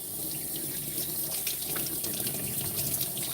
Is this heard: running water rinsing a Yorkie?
yes